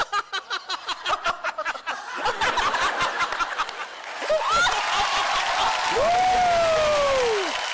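Studio audience at a televised ladies' comedy show bursts into laughter, starting with rhythmic claps and giggles that swell into loud sustained laughing and applause, with a rising tonal sound effect near the end.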